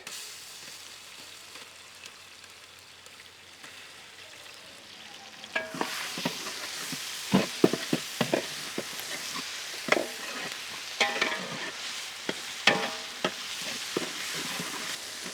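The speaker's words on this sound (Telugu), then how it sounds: "అల్లం వెల్లుల్లి పేస్ట్ నూనెలో చక్కగా వేగి" Ginger garlic paste is added to hot oil in a pan for a Telugu mutton paya curry. A soft background hiss gives way to louder sizzling, with irregular sharp crackles and pops as it fries and gets stirred.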